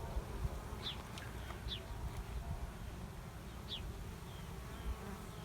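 Honey bees buzz at a hive in Montana, a soft, steady swarm drone heard from nearby, with a few faint bird chirps in the background and no talking.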